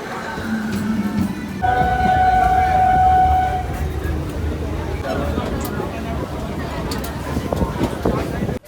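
A train rumbles at a railway station platform, with a long horn-like tone sounding over steady rolling noise while people talk nearby.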